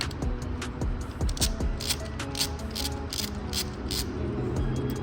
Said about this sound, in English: first we're going to use a 5mm hex socket to remove the spacer.